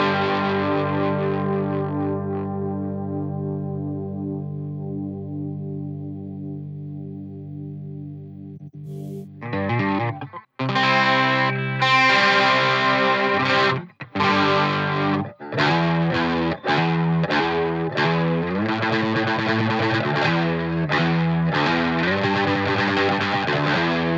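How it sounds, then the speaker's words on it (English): Electric guitar runs through a NUX Trident with chorus engaged: a long sustained, shimmering chord fades, then after a brief gap come choppy strummed chords and picked notes, moderately loud, with no voices. "And then you've got your mod section, which you've got chorus."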